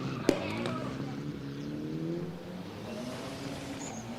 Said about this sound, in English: Here we go, another whip into sector 3.